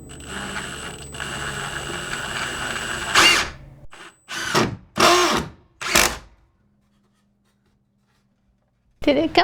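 A power drill drives a screw into wood while plumbing a shower mixing valve in a bathroom remodel. Several loud whirring bursts come after talk, then a pause and one more burst.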